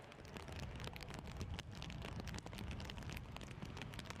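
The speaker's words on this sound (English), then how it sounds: "You can hear on our sound effects mics the rain is lashing down." Heavy rain lashes down at the Brands Hatch Indy race track, a steady, dense hiss of falling water picked up faintly by trackside microphones.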